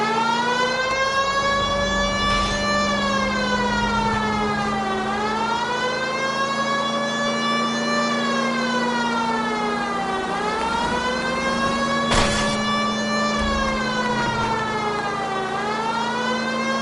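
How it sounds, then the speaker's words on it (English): Police car siren in the L.A. Noire video game wails in slow rising and falling sweeps, loud and continuous throughout over a steady engine drone, with no talk. "If you're going to drive like this, at least use the siren."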